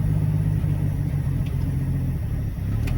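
Worn old International truck with a failing clutch, throttle and ignition, engine droning steadily as it drives, a loud continuous rumbling with slight uneven throb.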